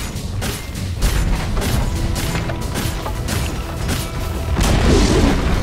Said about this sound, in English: Dire's bottom tower has fallen.